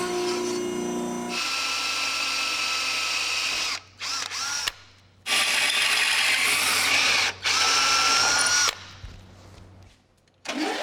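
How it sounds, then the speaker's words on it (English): Power drill boring holes through a steel flat-stock bracket for a classic Camaro build, loud sustained whining runs broken by brief stops and restarts, close by with no talking. "We'll cut this out and then mark our holes and get them drilled."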